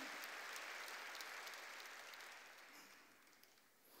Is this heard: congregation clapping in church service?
yes